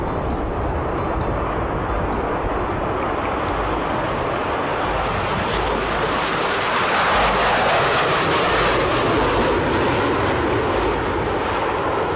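Concorde jet departing Heathrow, a loud, sustained broadband roar that steadily builds and swells toward the end, with no voices.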